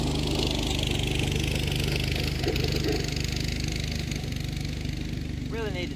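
A ported Husqvarna 55 chainsaw runs steadily outdoors, a constant buzzing engine drone held at an even level throughout, with a person talking over it.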